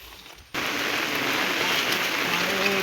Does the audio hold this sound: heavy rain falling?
yes